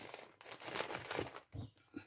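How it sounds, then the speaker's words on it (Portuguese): Adhesive tape pulled and pressed onto a package, with short close crinkles and tearing bursts, fairly quiet and without talk. "E agora eu vou e reforço com o durex."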